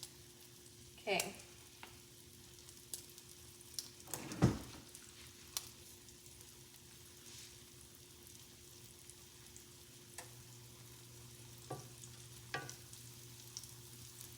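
Soft, steady sizzle of chicken nuggets frying in oil, quiet and continuous, with a few clinks and knocks from cooking utensils.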